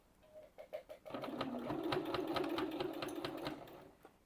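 A sewing machine starts with a few short stitching bursts, then runs a sustained steady whirring stretch of back-and-forth stitches on fabric for a beginner's glasses pouch, close and clear before stopping.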